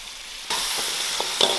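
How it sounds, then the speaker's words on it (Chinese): Whole spices drop into hot oil for red-braised lamb trotters and instantly erupt into a loud, hissing sizzle after a brief quiet moment, with a few stirring scrapes close by and no voices. "然后把香料也倒进来，用油给它爆香。"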